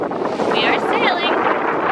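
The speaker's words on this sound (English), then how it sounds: "We are sailing." Sailboat under way in wind, with steady broadband wind and water rush throughout, buffeting the microphone and occasional hissing wash; a voice talks faintly underneath.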